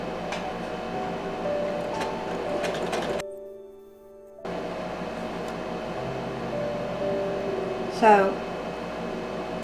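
A sewing machine top stitching a seam on a fabric sun hat, a steady close mechanical hum that stops for about a second, then starts again, with a voice speaking briefly over it and a short higher whir near the end.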